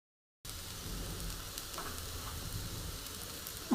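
French bean sabzi frying gently in a pan over low gas, a steady soft sizzle running continuously with no talk.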